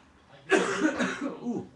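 A single person lets out a short burst of coughing, a harsh, close rasp that rises abruptly and tails off into a throaty rumble over about a second.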